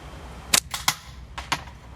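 Slingshot shots with 9.5 mm ammunition striking a target: five sharp cracking impacts over about a second, each clear and close against a quiet background.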